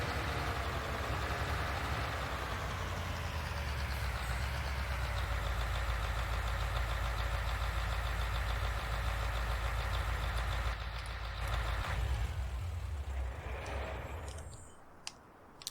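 A tractor engine idles in Farming Simulator 19 with a steady, dense drone and a faint rhythmic clatter, holding evenly before fading away near the end.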